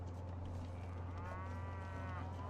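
Cattle in the Age of Empires strategy game low continuously in a steady, overlapping chorus of moos, fairly loud against a constant low in-game hum, with no talking.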